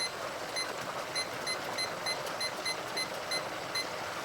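A King Kooker turkey fryer timer beeps in a steady, regular series of short high-pitched bleeps over a low background hiss, with no voices.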